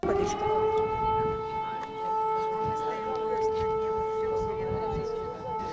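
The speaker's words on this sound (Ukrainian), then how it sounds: "Нестерпний гул сирени, загроза балістичного обстрілу під вже звичну повітряну тривогу." Air-raid siren sounding a steady, sustained wail during a ballistic missile alert in wartime eastern Ukraine, near Pokrovsk and Pavlohrad; loud, continuous and unbroken, with faint background noise.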